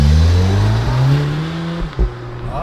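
A modified VW Mk7 Golf R with a dual-clutch gearbox accelerates hard in race mode. The engine drones loudly up through the revs, with a quick shift near the end before it pulls on again.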